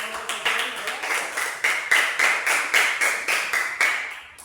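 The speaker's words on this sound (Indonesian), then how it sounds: "Coba tepuk tangan buat konflik." A classroom of students claps for a classmate, a rhythmic group of about a dozen sharp, even claps in steady beat, close and fairly loud.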